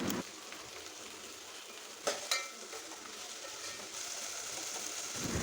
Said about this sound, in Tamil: விழுதோட பச்சை வாசனை போகிற வரைக்கும் ஃப்ரை பண்ணிவிட்டு ஒரு பச்சை மிளகா அதுக்கப்புறம் ஒரு மீடியம் சைஸ் தக்காளியும் ஆட் பண்ணிவிட்டு நல்லா வதக்கிக்கலாம்